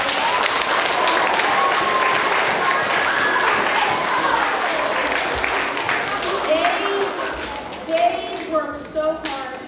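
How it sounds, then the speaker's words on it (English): Elementary school assembly crowd applauding in a gym during an autism awareness event, a loud sustained roar of clapping with children's voices and shouts rising as it fades near the end. "let's give them all a round of applause, guys."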